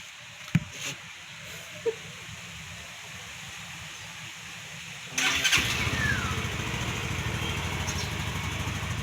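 A Yamaha Mio Mxi 125 scooter engine cranks after a couple of faint clicks, catches abruptly, then settles into a steady, close, buzzing idle that runs on without pause.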